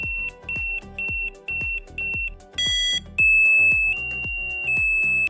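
An EESENS Guardian alarm cycles through its selectable tones: a run of five short, evenly spaced loud beeps, then a different chiming pattern and a longer sustained electronic tone, close and alone.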